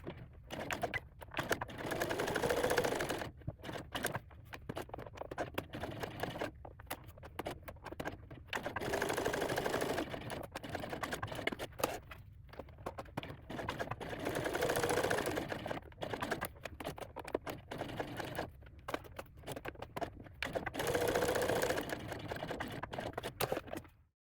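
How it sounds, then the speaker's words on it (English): A sewing machine topstitches around two fabric bag connector pieces at a top-stitching stitch length, 1/8 inch from the edge, running in several steady bursts of close, fast mechanical clatter separated by short pauses. "we are going to top stitch around both connector pieces at 1/8 of an inch"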